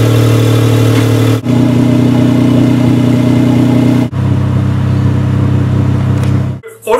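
A show car's engine idles loudly up close, its steady hum shifting in pitch at a couple of points as the revs change, then cutting off near the end.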